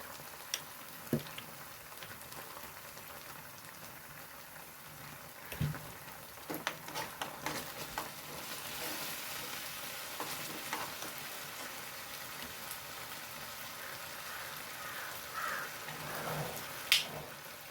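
Chicken lollipops fry in a pan with Kashmiri chilli powder added, giving a steady close sizzle with scattered pops and crackles for the whole stretch and no talking.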